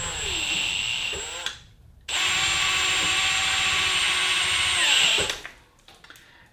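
A power drill whines steadily while boring a recess into a soft jaw for a bench vise, running in two long bursts separated by a brief pause, close and loud.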